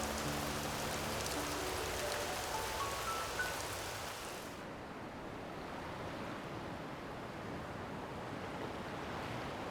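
Rain falls as a steady, soft, even hiss, with a short run of faint rising tones in the first seconds before the patter continues alone.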